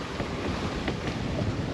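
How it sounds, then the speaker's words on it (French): At sea aboard a sailboat with the genoa fully unrolled, wind and building waves make a steady, dense roar, with gusts buffeting the microphone. "La mer, comme je l'avais dit, a commencé à monter. Des fois, il y a une série de vagues un peu plus fortes."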